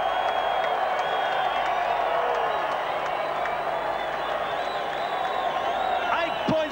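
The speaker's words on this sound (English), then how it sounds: "The crowd on their feet at long last at Palmerston North" A rugby crowd at Palmerston North roars to its feet for a test match, a steady wash of cheering and applause throughout, with a commentator's voice over it.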